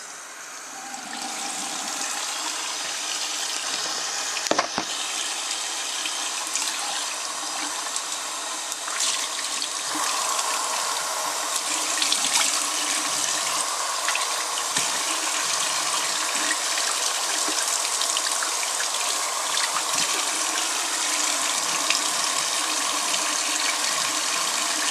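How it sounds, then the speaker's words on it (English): Cool tap water running steadily for rinsing a face after an exfoliating masque, a continuous close splashing wash with no talk. "all I'm supposed to do is rinse this off with cool water and then just pat it dry"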